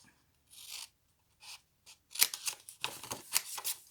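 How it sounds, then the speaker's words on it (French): Scissors snip through paper at its four corners in short separate cuts, a few quiet at first, then a denser run of crisp, close snips and rustles. "On va les découper tout simplement."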